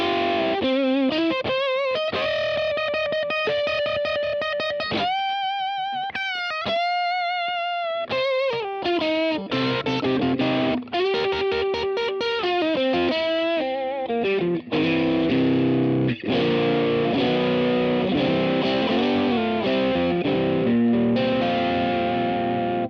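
A Fender Custom Shop Custom Deluxe Stratocaster electric guitar with overdrive plays chords and sustained notes, gritty and distorted, loud and continuous with no talking.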